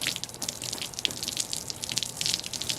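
Water steadily sprays and rinses over a metal part coated with phosphate treatment before epoxy primer painting, a continuous close splashing hiss with small fluctuations.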